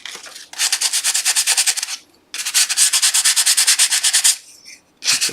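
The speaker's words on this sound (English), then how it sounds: "sand to get those little furry bits off." Light hand sanding of a wooden dovetail box with a mitered joint: three bursts of brisk, rhythmic back-and-forth rubbing strokes, close and clear, separated by short pauses, with no talk.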